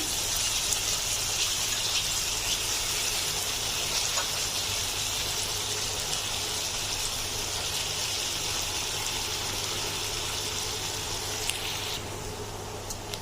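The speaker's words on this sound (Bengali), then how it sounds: "আমি একটু অল্প সময়ের জন্য হাই হিটে পেঁয়াজগুলো ভেজে নেব।" Chopped onions sizzle in hot oil on high heat while being fried for a chicken vegetable chop filling, a steady, dense hiss that runs close and unbroken throughout.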